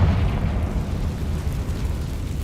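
A Confringo fire spell in Hogwarts Legacy detonates as a loud, deep rumbling boom that decays slowly over a couple of seconds, heard alone.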